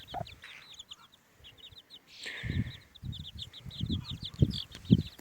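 A broody hen in a backyard coop clucks near her chicks, which are about three weeks old. Their high peeping chirps repeat throughout, and the hen's low, bursty clucks grow busier in the second half.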